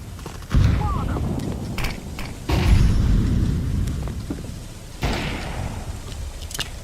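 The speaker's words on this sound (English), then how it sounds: "I'm throwing a grenade." A grenade explodes in a video game: three heavy booms about two seconds apart, each a sudden loud blast followed by a long rumbling tail that fades before the next.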